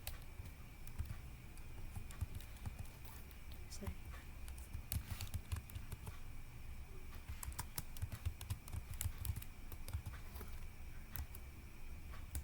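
Rapid, light clicking of a computer keyboard as a Cisco configure terminal command is typed, steady and fairly close, with a soft voice faintly underneath.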